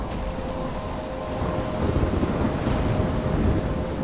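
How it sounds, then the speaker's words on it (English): Heavy rain pours steadily with a deep rolling rumble of thunder building underneath, loud and close, with no voices, in a storm in the video game Life Is Strange. "it's raining like hell here. I'm trapped in a storm."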